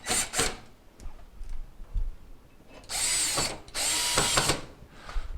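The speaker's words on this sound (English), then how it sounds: "we're just going to go ahead and put our 2 mounting screws back in" A power drill driving two mounting screws into a KitchenAid oven during a repair, with short whirring bursts followed by two longer, louder runs, close up and with no talking.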